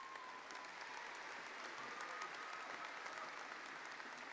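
A crowd at an MBA graduation ceremony gives graduates sustained, even applause that holds at a steady level from start to finish.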